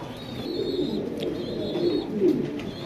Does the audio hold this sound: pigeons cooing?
yes